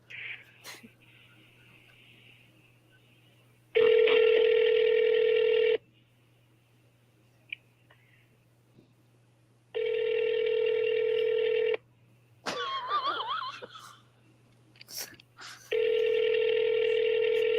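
A telephone rings through a handset during an unanswered call, three long, steady, loud ring tones separated by quiet gaps, with a brief burst of squeaky noise between the last two rings over a low constant hum.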